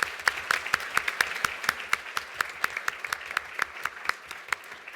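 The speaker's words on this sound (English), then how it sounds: "Please, everyone, join me in thanking our amazing speakers with a round of applause." A conference audience at a session on non-proliferation and disarmament claps for the speakers, a moderate round of applause with crisp individual claps standing out clearly against a thinner background of hands.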